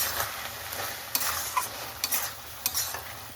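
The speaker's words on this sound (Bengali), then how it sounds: "এবার এটা আমি ভালো করে কষিয়ে নেব" A spiced vegetable mixture with Kashmiri chilli and sugar is stir-fried in a pan, giving a constant sizzle broken by sharp, regular scrapes of the spatula, close up and without voices.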